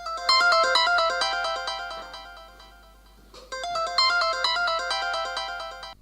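A melodic electronic ringtone plays for an incoming phone call, two clear bursts of repeating chiming notes with a short gap between, close and fairly loud with no one talking.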